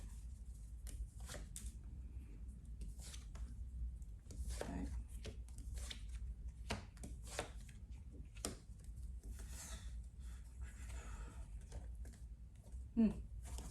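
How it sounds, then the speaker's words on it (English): Tarot cards being shuffled by hand, with a steady run of soft riffling and rubbing that carries on throughout and ends in a sharper tap near the end, all at a quiet level. "can I get the top 5 cards for my Libras, please?"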